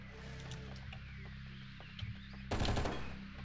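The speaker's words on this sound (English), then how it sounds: "The grenade launcher, like, explodes into a bunch of little grenades" Grenade launcher blasts in the video game Oni: a string of small muffled pops and thuds, then a loud broadband explosion that bursts in and rumbles on through the end, close and alone.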